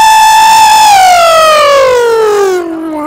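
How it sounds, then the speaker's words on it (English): A loud tornado siren wail holds a steady high pitch, then slowly glides downward as it winds down, with no other sounds around it. "look at the tornado siren"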